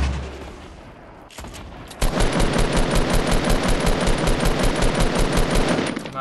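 Fortnite gunfire starts after a quieter lead-in, then rapid shots hammer out in a steady, evenly spaced automatic rhythm, loud and close, for several seconds.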